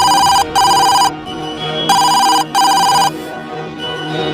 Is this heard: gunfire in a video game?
no